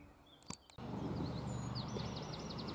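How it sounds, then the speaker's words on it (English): Birds sing faintly in the distance at a steam railway gala, a repeated series of short high chirps over a steady low rumble after a brief clatter. "Listen to the bird song."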